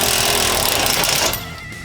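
Power tool rattles hard while backing a bolt out of a stock rear bumper on a 2004 Jeep Wrangler TJ, a loud close hammering buzz that cuts off after about a second and a half, leaving a quieter hum.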